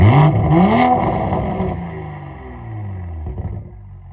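A Toyota Supra in sport mode with a catted downpipe and Magnaflow X-Force catback exhaust revs hard twice, rising and falling, then settles into a fading burble with a small blip. It is loud and close, with no talk.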